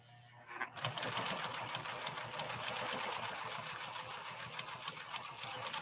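A PFAFF 360 sewing machine punches through two layers of leather, a close, steady rhythmic chatter of needle strokes kicking in after a brief pause and running continuously at a moderate pace without voices.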